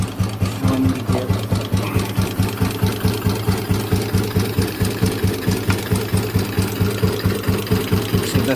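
A motorcycle engine idles steadily with a rattling timing-gear latching fault. It makes a rapid, even mechanical knocking close by, with no talk.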